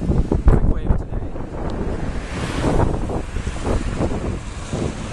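Large ocean waves break and surge in Cork Bay, a loud, continuous roar of surf with heavy wind buffeting the microphone and several thumping crashes, while people talk excitedly over it.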